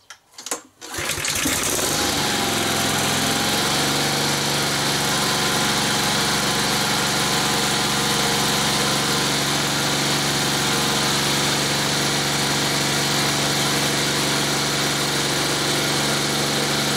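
A new Honda GCVx small engine starts at once on a cold start, around 20 degrees, then settles into a steady, loud, close idle with an even mechanical hum that carries through to the end.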